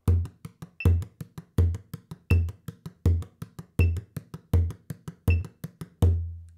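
A drum struck on a regular beat together with metronome clicks, firm low thumps spaced evenly with lighter ticks between them, close and alone for about eight beats, the last hit left to ring.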